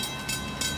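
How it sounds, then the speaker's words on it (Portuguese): A train approaching a station platform near a ferry terminal, with a steady rumble and hiss of rail noise and brief swells, heard alone over a short moment. "Ó, o trem tá vindo."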